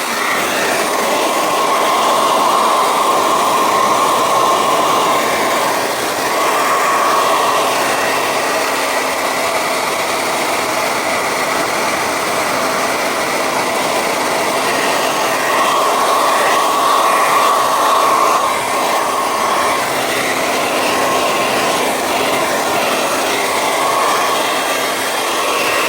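A hair dryer blowing on a painted card, a loud continuous whooshing roar with a steady high whine running unbroken for nearly half a minute.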